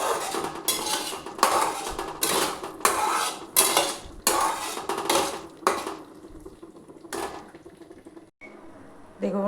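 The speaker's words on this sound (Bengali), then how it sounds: "দেখুন মশলাটা আমি গ্যাসটা কমিয়ে মশলাটা ভাজছি, কারণ কাজু দিয়ে আছে" A metal spoon stirs and scrapes a spice paste with cashews around a pan over low heat, the rhythmic scraping strokes coming close and loud at first, then thinning to a few sparse clinks.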